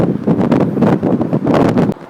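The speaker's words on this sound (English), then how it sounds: "Hopefully the audio doesn't get too distorted with the wind" Heavy wind buffeting the microphone outdoors in Hiroshima, a continuous roaring rumble with gusty surges, loud and close, ending abruptly.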